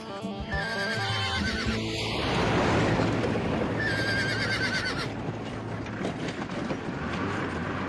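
A horse neighs loudly and close by on a dusty dirt track crowded with horse-drawn carts, the whinny rising over a steady rumble of wheels and hooves, with a second call following later.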